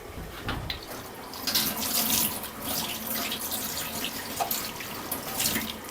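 Water runs steadily from a kitchen tap for washing while cooking beef curry, a continuous close splashing stream into a sink with small shifts in flow.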